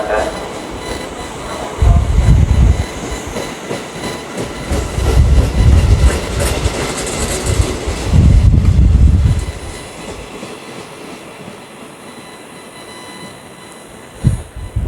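A KRL Commuter Line electric train rumbles along a station platform in Jakarta, its low heavy roll swelling and fading in waves with faint wheel squeal, while station announcements and ambient chatter carry over the platform.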